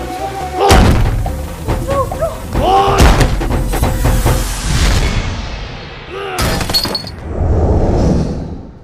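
Several loud bangs on a door in quick bursts, mixed with voices and a dramatic scene's background noise.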